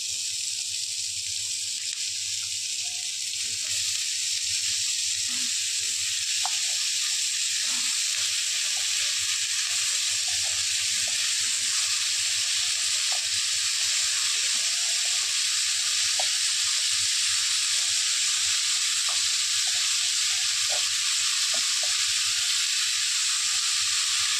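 Chopped ridge gourd frying in a pan for a Bengali paneer dish, giving a steady dense sizzle throughout with faint clicks of stirring and no talk.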